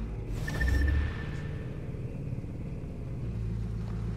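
A Bugatti Chiron in The Crew 2 being parked, its engine giving a brief rising surge with a thin whine, then settling into a steady low rumble that idles close by, with no voices.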